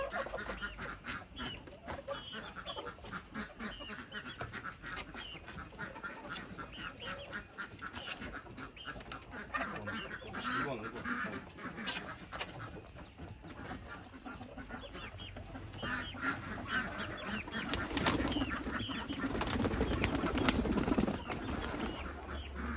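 Chickens, ducks and pigeons kept together in a home poultry coop, with a steady jumble of clucking, quacking and cooing close at hand that grows louder toward the end.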